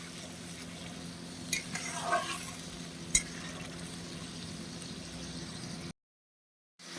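Chicken stir-fries in a pan for chicken bahar, a quiet continuous sizzle broken by a few light stirring clatters, cutting to silence near the end.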